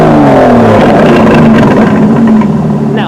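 An Aston Martin DB11's exhaust in Sport Plus mode, a loud, close, deep engine drone that holds and burbles over a few seconds with no talking.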